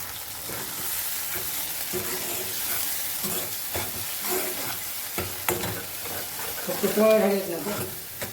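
Amti curry with roasted onion and homemade masala sizzling and bubbling in a pan, a steady close frying hiss with occasional stirring scrapes, while a voice talks faintly in the background.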